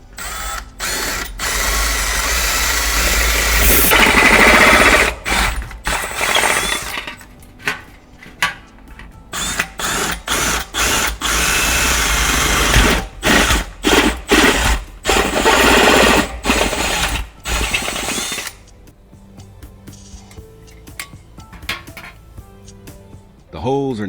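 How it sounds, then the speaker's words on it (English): Drilling holes through an old spray paint can, with a steady mechanical whir and grinding that runs in bursts, broken by brief pauses and clanks, loud and close, fading toward quieter rattles near the end. "a center punch is used to create reference points before drilling the holes at the marked locations"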